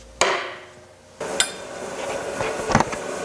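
Wooden mallet tapping a turned wooden kitchen canister into place on a lathe, a few sharp knocks spaced out over a steady background hum.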